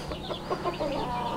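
A hen with her chicks, backyard poultry, gives soft clucks mixed with high chirping peeps, a few quick close calls in a short burst without talk.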